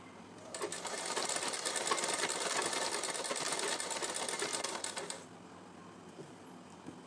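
A sewing machine stitches triangle lace onto the neckline of a suit, running steadily for several seconds as a whirring, rapid needle rattle before stopping, with no talk over it.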